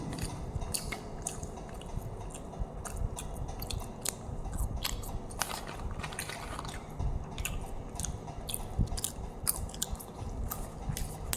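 Close, steady crunching and biting of KFC French fries being eaten as a snack, a continuous run of small crisp chews with no talking.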